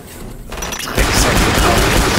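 A grenade goes off in the video game Killing Floor: a short lull, then a loud, sustained blast around the one-second mark that rolls into dense, crackling noise and gunfire that continues to the end.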